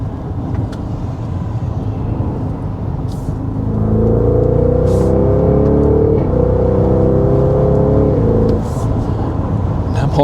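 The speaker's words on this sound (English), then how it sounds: "classic exhaust sound from a Porsche, at least with the V8 under the hood" A 2025 Porsche Cayenne S with a V8 rumbles through its exhaust while driving, a deep steady drone swelling midway and holding before easing off, heard from inside the cabin.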